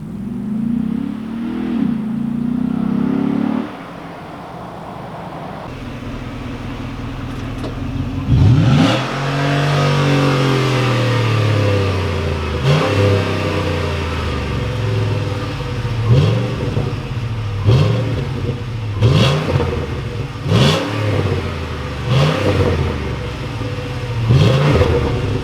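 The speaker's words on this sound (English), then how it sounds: "It burbles! It's burbling!" A Ford Raptor pickup fitted with a Corsa exhaust idles, then a loud rev sweeps up and settles into a deep burble, followed by several sharp blips and pops in an uneven rhythm, close by.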